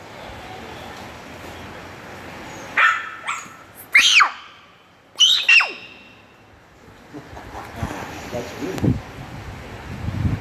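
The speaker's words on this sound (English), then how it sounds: "I will shout if the dog is barking." A dog barks a few times at moderate distance, sharp yelps standing out against steady wind-like background noise, with a voice talking faintly near the end.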